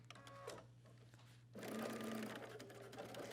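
Domestic sewing machine understitching a seam on a pair of pants, starting with a brief quieter run and then a louder steady whirring burst of stitching from about halfway through.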